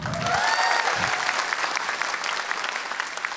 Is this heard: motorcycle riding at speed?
no